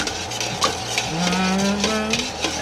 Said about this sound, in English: You guys are gonna just stir that all together.